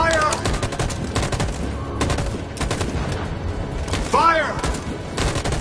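A volley of rifle fire in Detroit: Become Human crackles in rapid, overlapping bursts near and loud, mixed with shouting voices and battle noise.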